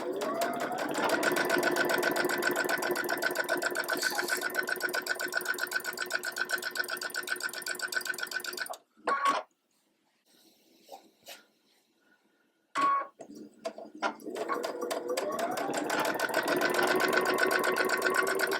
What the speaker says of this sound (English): I'm going to sew 1/4 of an inch on this side of the line, get through my entire stack